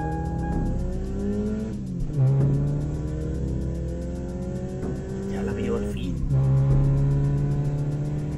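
A car engine drones and revs under ongoing talk, with pitch rising and falling through several accelerations and short squealing bursts, moderately loud throughout.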